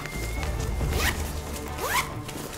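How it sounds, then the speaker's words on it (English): A zipper pocket being opened on a 5.11 MOAB 10 backpack, two quick rasping zip pulls close to the mic, sharp and clear with nothing else over them. "I also have zipper pockets that I could get into from here or from here."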